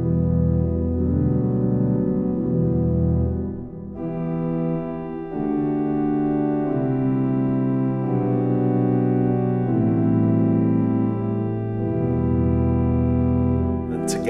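A second solo stop of a church pipe organ in Cirencester Parish Church plays a slow sequence of held chords in a reverberant nave, steady and fairly loud, with no talking.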